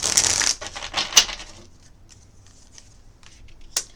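Cards riffle and snap together in a quick shuffle, followed by lighter flicks and a final sharp slap, close by with no voices.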